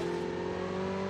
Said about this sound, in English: Motorcycle is there.